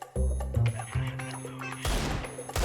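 An enemy pre-fires in a shooter game: a rapid burst of close gunshots with heavy low thumps, a short gap, then a louder crashing volley near the end.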